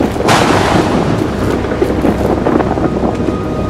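Thunder rolls through a stormy scene in the horror game Outlast 2, a loud crack at the start that fades into a long, rumbling, wind-like roar.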